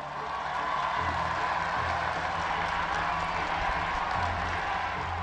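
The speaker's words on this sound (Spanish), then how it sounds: "Aquí en vez de abucheo, hubo aplausos para el gobernador de Guanajuato." Applause from an open-air public event crowd in Guanajuato greeting the state governor, a steady wash of clapping and crowd noise heard at moderate distance, evenly sustained throughout.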